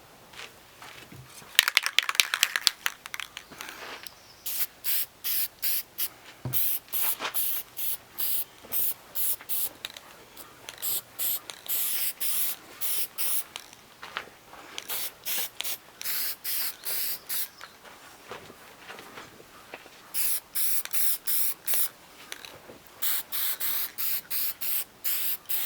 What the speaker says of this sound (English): I'm using a clear lacquer